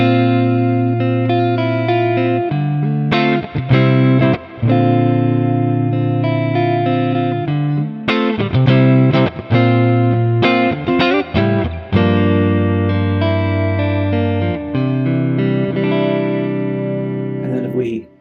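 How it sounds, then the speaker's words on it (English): A clean electric guitar through a compressor on an Ampero II Stomp plays sustained chords and picked notes with an even, compressed sparkle, close and clear, with short breaks between phrases. "So if I turn on the compressor in front of the clean, it's kind of nice."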